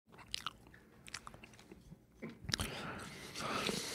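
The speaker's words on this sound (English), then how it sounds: "It's a chewing of the gum." Chewing gum close to a microphone: quiet, irregular wet smacks and clicks of mastication, followed by a slightly louder, breathy stretch at the end.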